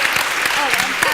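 Church audience applauding the panelists at a ladies' event, a brief burst of clapping with voices talking and cheering over it.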